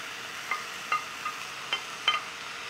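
Garlic, ginger and onion fry in a pot for chicken stock, a low steady sizzle broken by about five light, evenly spaced spoon taps against the pot.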